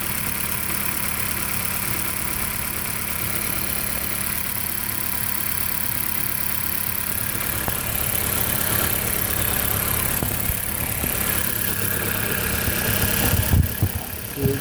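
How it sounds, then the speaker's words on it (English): A 2008 Dodge Caliber idles with a misfire, its engine running steadily and close with an uneven, stumbling pulse, rising slightly toward the end with a few sharper knocks. "Sounds like the car is misfiring."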